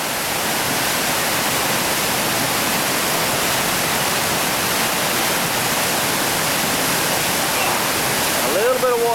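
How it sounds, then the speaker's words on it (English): Whitewater rapid on the Chattooga River's Section 4 roars as a steady, loud broadband rush close by, continuous throughout with a brief voice near the end. "Look at this monster of a rapid."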